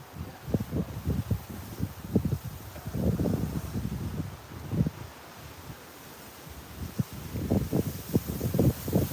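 Gusting wind buffets the microphone beside a river during steelhead fishing, coming in loud irregular bursts with brief lulls, with no voices.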